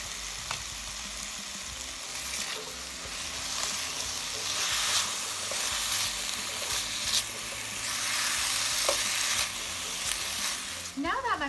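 Potatoes seasoned with salt and pepper fry in a pan, a steady moderate sizzle broken by occasional clicks and scrapes of stirring, with a brief rattling clatter at the very end.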